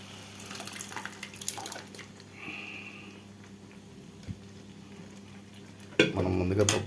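Cooked dal is poured into a pot of radish and stirred, making soft wet sloshing and scraping that is quiet for most of the time and then bursts into a louder, watery splash near the end.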